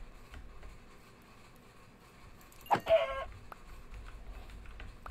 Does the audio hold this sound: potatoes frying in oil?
no